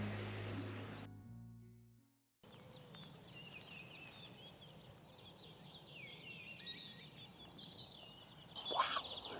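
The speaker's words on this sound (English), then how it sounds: "As you can probably hear all around me, loads and loads of birds." Many birds chirp and call near a waterfall in rural France in spring, scattered bright twitters over a soft, steady wash of falling water, growing busier toward the end after a brief silent gap.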